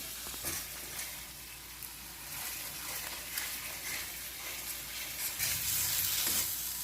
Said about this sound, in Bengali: মশলাটা আমি করতে থাকবো যতক্ষণ তেল না ছেড়ে দেয়